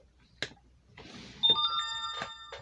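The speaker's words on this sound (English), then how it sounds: "I hope all this dinging is not in the video. Notifications coming up." Notification dings from a phone during a beaded craft tutorial: several short bright chimes, some with sustained ringing tones, sound close by in a quiet room.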